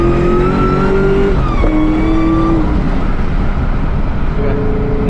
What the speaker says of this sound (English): So third gear into fourth.